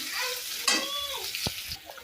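Onions sizzle in a pan in a village kitchen while a spoon scrapes and stirs, giving a brief, moderately soft crackle with a sharp tap partway through.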